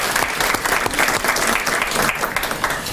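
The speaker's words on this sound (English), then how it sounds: "Let's give her a round of applause." An audience at a student of the month breakfast gives steady, full applause for an honored student, dense and sustained clapping that holds at a strong level throughout with no one speaking over it.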